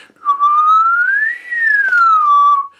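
A person whistles one sustained, clear tone that glides smoothly upward, peaks midway, then slides back down as the tongue reshapes the mouth. The whistle is close and fairly loud, with a brief dip in the middle.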